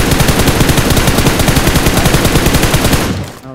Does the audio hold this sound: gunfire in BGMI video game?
yes